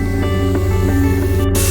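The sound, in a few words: hot air welder seaming thermoplastic roof membrane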